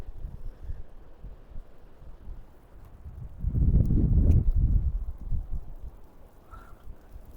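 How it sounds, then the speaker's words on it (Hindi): Very strong wind buffets the microphone on an open road, rumbling low and uneven, surging into a heavy roaring gust midway before easing back. "बहुत शदीद हवा चल रही है इस वक्त"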